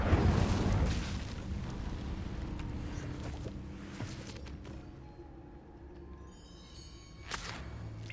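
In Hogwarts Legacy, the Incendio fire spell bursts out as a loud whooshing blast of flame that fades into a lingering rumble, followed by a few faint sparkling tones.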